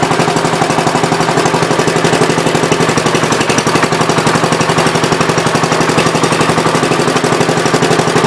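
A 1970 Gravely 408 tractor runs with its PTO engaged, a steady, loud, rapid mechanical chatter of engine and pulley drive that holds constant throughout with no voices.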